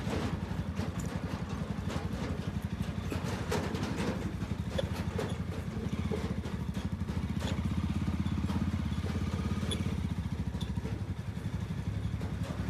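A tractor engine chugs continuously close by along a potholed village road, with a steady rhythmic thump and rattling clatter over the rough surface.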